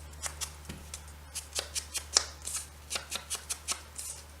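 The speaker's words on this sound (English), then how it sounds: "Cutter isn't cutting really clean either." A Fiskars paper cutter slices through paper that is not cutting cleanly, giving a series of about a dozen quick, crisp swishing strokes in a fairly steady rhythm, close and moderately quiet over a low hum.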